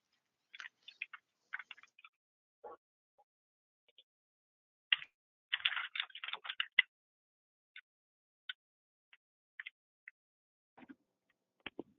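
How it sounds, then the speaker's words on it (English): Typing on a computer keyboard during an online local food systems webinar, heard as scattered clicks and short bursts of keystrokes, close and fairly quiet, with a denser flurry midway and gaps of near silence. "I just realized I'm typing and I didn't mute myself"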